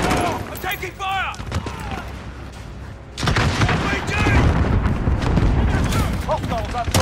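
Gunfire in Call of Duty: Modern Warfare multiplayer, a dense barrage of shots and booms mixed with radio-style voice callouts, growing louder and heavier in the second half.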